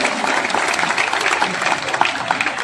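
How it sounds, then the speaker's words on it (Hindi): A large crowd at a Yadav community gathering in Indore claps together. The applause is full and continuous, with faint voices mixed into the noise. "जरा एक बार ताली बजा के आप अभिनंदन कर दो"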